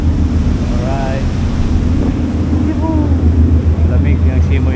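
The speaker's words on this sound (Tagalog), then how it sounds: "lamig yung simoy ng hangin." Strong wind roaring across the microphone over a low engine-like rumble on open water aboard a fast ferry, with a voice speaking faintly underneath.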